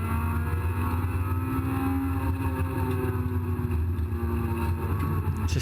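A race car engine drones loudly and continuously at Cadwell Park, heard from on board while the car slides through corners and briefly drops out of gear, with a steady rumbling roar throughout.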